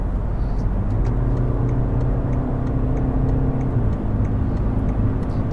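A BMW 520d G30 cruising steadily on an unrestricted autobahn: a constant, loud engine drone and road roar heard from inside the cabin, with a low even hum throughout and no talking.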